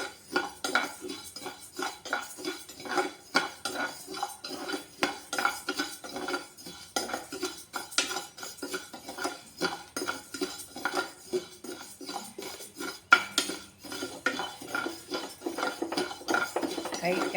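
A spoon scrapes and clinks repeatedly against a pan as rice is dry-roasted, a busy, uneven rhythm of metallic taps and scrapes close up, with a voice faintly in the background at times.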